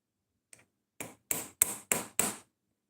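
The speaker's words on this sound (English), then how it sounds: "So we gotta hammer this back through," Hammer blows driving a part back through during a leak repair, one light tap followed by five hard, evenly spaced metallic strikes, close and loud, no talking.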